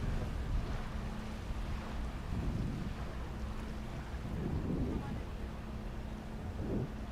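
A drag racing boat at a Southern Drag Boat Association event in Bryan, Texas runs at speed, heard as a distant, faint engine roar mixed with wind buffeting the microphone, with a voice talking over it.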